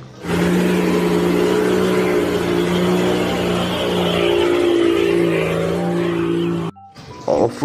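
A toy off-road jeep gives a loud, sustained electronic engine drone with a steady revving tone for several seconds, then cuts off abruptly into brief handling noise.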